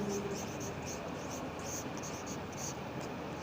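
A pen scratches across paper in faint, brief strokes, heard under a steady background hiss.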